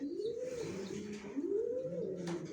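Original racer pigeons of the Johnson line, down-shape youngsters, give two rising-and-falling coos one after another, close and clear, with no talking.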